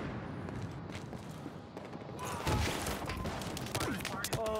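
M416 rifle fire in Battlefield Hardline, scattered sharp shots and crackling gunfire that grow denser and louder partway through, mixed with game noise and someone talking.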